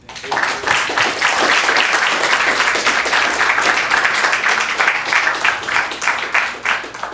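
An audience at a city press conference on a summer youth employment program claps loudly and steadily, the applause swelling quickly and continuing throughout at close range.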